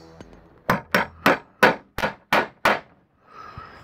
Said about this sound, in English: I have to tap the carriage bolt a little bit because this is quite long enough.